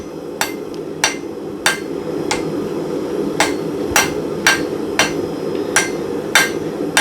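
A hammer forges a hot steel square nail on an anvil, striking about a dozen sharp metallic blows at an uneven, roughly half-second pace over a low background rumble.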